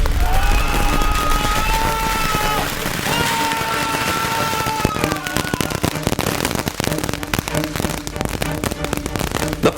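A Supernova firework box with a Lego minifigure taped on top goes off, whistling launches followed by rapid crackling bursts and dense popping that intensifies toward the end, loud and close.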